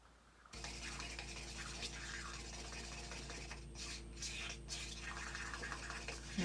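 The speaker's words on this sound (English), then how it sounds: "I will stir as fast as I can" Acrylic paint being stirred with a stick to blend in pouring medium, a steady wet scraping and swishing that runs continuously at close range over a constant low hum, with no talking.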